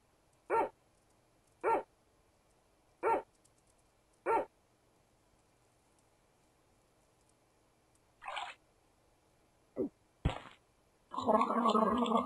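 Dog in the puzzle game Rusty Lake Roots barking in four short, evenly spaced woofs, then a pause before a few more irregular sounds and a louder noisy burst at the end.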